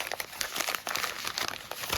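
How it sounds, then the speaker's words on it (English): Paper wrapping torn and crinkled off a package holding a collectible toy, a continuous close rustling and ripping with small crackles throughout. "Tear this paper open."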